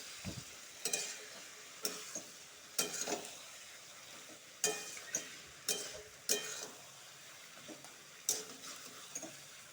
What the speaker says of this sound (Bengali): মশলার সাথে ভালো করে ভাজবো